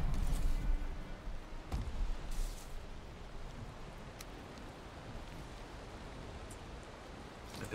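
Steady broadband hiss of rain in the Valheim survival game, a soft even wash that is a little louder at the start and then settles into a constant patter, with no voices.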